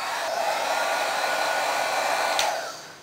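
Panasonic hair styler blows a steady, moderately loud whoosh of air that runs evenly for a few seconds before switching off and trailing away, with no talk.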